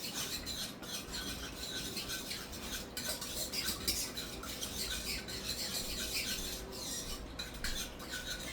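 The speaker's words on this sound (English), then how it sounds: "So I'm going to give this a quick little mix." A utensil stirs sugar into a yeast mixture for bread dough, giving a busy run of light scraping clinks against the bowl, close and moderately quiet, without speech.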